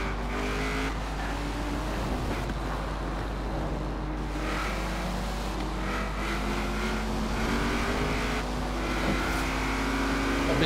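Car engine driving in the racing game Forza Horizon 4 at a car meet, a steady loud drone with rising and falling revs and some tyre noise throughout, no talking.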